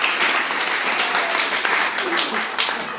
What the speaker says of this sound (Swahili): Pigia Yesu makofi mazuri wapendwa.